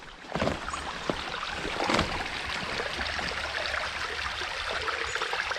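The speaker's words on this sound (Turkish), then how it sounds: "bu su öyle akıp gidiyor işte" Stream water flowing through woodland after rain, a steady close rushing and gurgling wash with a few brief knocks and rustles early on.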